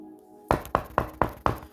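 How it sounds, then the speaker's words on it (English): Five firm, evenly spaced knocks on a door, close and distinct, alone without any talking. "Wisdom is knocking at your door 10-10"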